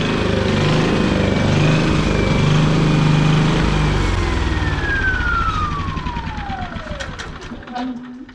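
A 10- or 11-year-old Champion generator with a dirty fuel system is shut down: its loud, steady engine drone slowly winds down in pitch over several seconds and fades out toward the end.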